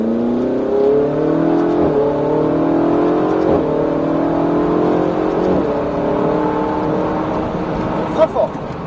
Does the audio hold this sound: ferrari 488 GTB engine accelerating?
yes